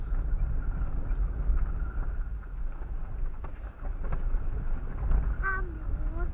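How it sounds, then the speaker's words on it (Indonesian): Steady wind rushes over a car dashcam microphone while descending the slopes of Mount Kelud, a continuous broadband roar with low rumble and faint rattles, briefly joined by a squeaky tonal sound near the end. "Angin sepoi-sepoi lho"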